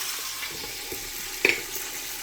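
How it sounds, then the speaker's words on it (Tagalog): Fish frying in a pan in a home kitchen, a steady quiet sizzle broken by one sharp crackle or pop about midway, with no talking. "Magluluto tayo ng isda"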